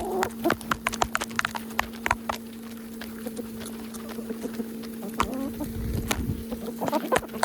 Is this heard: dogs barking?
no